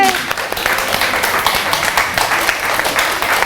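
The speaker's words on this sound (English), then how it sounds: "Big round of applause." Audience at a children's museum Christmas event gives a round of applause, continuous close clapping with faint voices mixed in.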